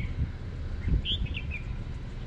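Oriental magpie-robin singing outdoors, a few short, fairly faint whistled phrases over low rumbling background noise.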